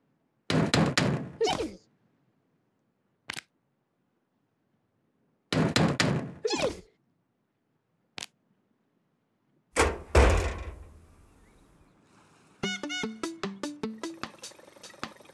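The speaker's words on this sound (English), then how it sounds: "It's somebody at the door." Knocking at a door in the Twirlywoos children's cartoon: two bursts of quick, sharp knocks separated by single taps, followed by a loud thud and a run of bright repeated plinks.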